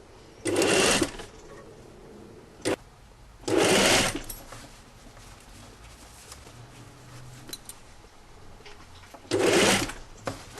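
A domestic sewing machine stitches braid trim onto a kit-made 'Brigand' jacket, running in three short close-up bursts separated by quiet pauses with faint handling noise.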